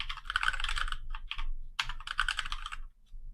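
Fast typing on a computer keyboard, with dense bursts of clicking keystrokes near the microphone broken by brief pauses and a final short tap, and no talking.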